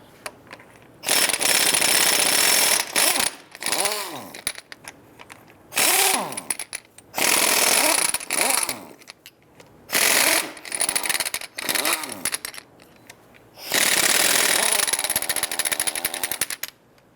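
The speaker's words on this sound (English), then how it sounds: "Using our 7/8 socket, we're going to go ahead and loosen and remove our lug nuts" Impact wrench bursts loosen and spin off 7/8-inch lug nuts on the passenger-side front wheel of a 2002-2008 Ram 1500, several loud rattling runs separated by short pauses, close to the wheel.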